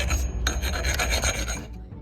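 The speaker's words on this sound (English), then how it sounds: "I'm just cleaning up all the burrs, so that way the PTO shaft can be smooth when in operation." Steady metal filing on the cut end of a tractor PTO shaft, clearing burrs: close, continuous raspy strokes that run without a break for about two seconds.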